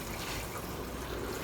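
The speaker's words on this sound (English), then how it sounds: "Give them a nice soaking so that the water runs all the way through." Water soaks through a tray of freshly sown seeds and drains into a catch tray below, a steady, quiet, hissing trickle with no other sounds.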